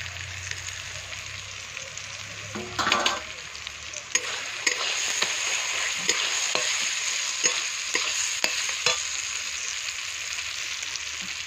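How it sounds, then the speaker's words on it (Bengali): Ginger and garlic fry in a pan with sautéed onion and tomato, giving a steady close sizzle with occasional stirring clicks and scrapes and a brief louder clatter early on. "এখানে আমি আদা রসুন দিয়ে দেবো।"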